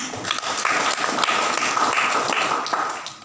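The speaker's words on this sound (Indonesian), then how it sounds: "Kita tepuk tangan untuk orang Sumba." A crowd at a public civic gathering claps together in a dense, sustained burst of applause lasting a few seconds before tapering off.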